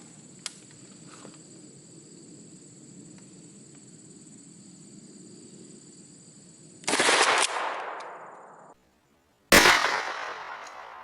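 Kel-Tec KSG 12 shotgun firing 00 buckshot at 15 yards, two loud sharp blasts a few seconds apart with ringing decay, over a quiet outdoor background with a steady insect-like whine.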